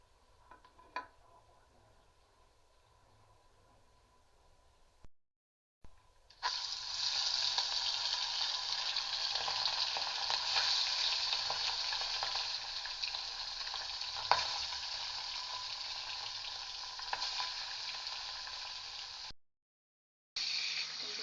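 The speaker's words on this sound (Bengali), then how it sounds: "আমি আগে একটু মাছটাকে ভাজবো হালকা করে ভেজে নেব" Turmeric- and salt-coated pabda fish frying in oil in a wok, starting with a few faint knocks, then a loud sustained hiss and crackle after the fish goes in, breaking off briefly near the end.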